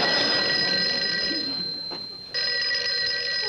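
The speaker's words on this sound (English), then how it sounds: "Somebody answer the phone." An office telephone in a conference room rings with a steady metallic bell trill that briefly drops out before resuming, loud over faint room noise.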